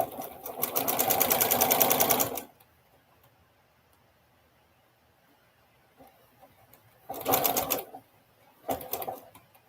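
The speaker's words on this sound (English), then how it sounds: "I sew right up to a thread or two before my pin before I remove it." A domestic sewing machine stitching quilt pieces runs in short bursts of rapid, even ticking: one longer run at first, then a quiet gap and two brief spurts, heard up close.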